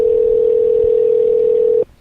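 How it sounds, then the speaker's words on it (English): A telephone ringback tone sounds while a call is placed: one steady, clear electronic tone held for nearly two seconds, then it cuts off. "Come on, answer the phone, woman."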